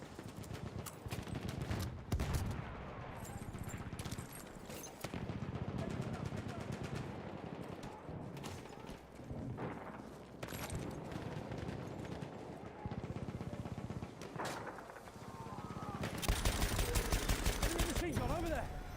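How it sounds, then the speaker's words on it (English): Machine gun fire rattles in bursts during a Battlefield match, rapid repeated shots near and far, with a louder sustained burst toward the end and a voice talking in between. "Enemy machine gun over there."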